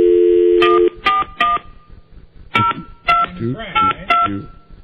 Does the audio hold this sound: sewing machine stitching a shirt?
no